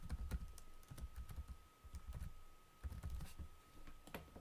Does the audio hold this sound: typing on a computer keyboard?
yes